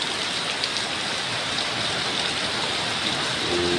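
Windless afternoon rain falls steadily outdoors near trees, a constant close hiss of countless drops on surfaces, even and unbroken from start to finish, with no one talking.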